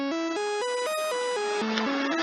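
Bright, buzzy additive synthesizer tone with raised harmonics stepping through a short sequence of sustained notes, sharp and harmonically rich, loud and alone.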